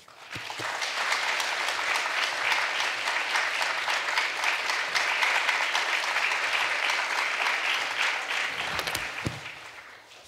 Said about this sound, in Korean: 우리가 박수로 목사님 환영하겠습니다